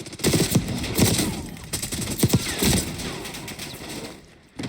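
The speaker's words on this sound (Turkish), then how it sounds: "Ben galiba oyuncu tabancasıyla sıkıyorum adamlara ya" Rapid gunfire from a pistol in Call of Duty Black Ops 6 multiplayer, a series of sharp close shots in irregular bursts over game ambience, fading out near the end.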